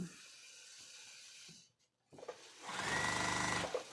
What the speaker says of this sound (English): I'm sorry the sewing machine's going.